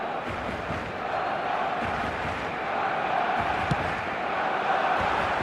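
Stadium crowd noise from an eFootball match fills the background as a steady, broad roar with a low murmur and occasional swells, heard in a dense, unbroken wash without distinct cheers.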